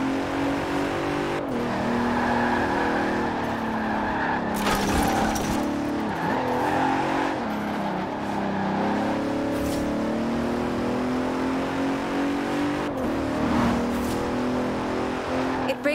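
A 2017 Bentley Continental Supersport with all-wheel drive races in Forza Horizon 4, its engine droning steadily and loudly throughout, rising and falling in pitch with shifts and revs, with brief tire squeal.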